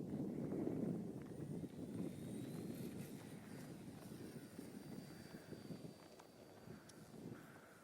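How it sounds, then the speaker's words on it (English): An XK A280 Mustang RC model plane flying with a two-blade propeller, a faint, steady buzzing drone from some distance, holding throughout with slight wavering and no talk. "First try with the two-blade propeller."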